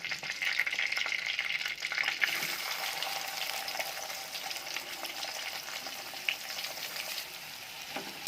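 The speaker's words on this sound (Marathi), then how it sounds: "आपण कांदा, जिरे, मोहरी आणि कढीपत्ता व्यवस्थित लाल करून घेऊ" Onion, cumin, mustard seeds and curry leaves fry in about three spoons of hot oil for a potato dosa filling, giving a dense, continuous crackling sizzle that stays fairly even throughout.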